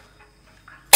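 A drinking glass smashes in a single loud, sharp crash that bursts out suddenly after near silence, with faint small sounds before it.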